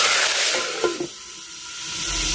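Spices tempering in hot oil for a suran (elephant foot yam) curry give a broad, steady sizzle and hiss, with a couple of brief clinks in the middle and no talking.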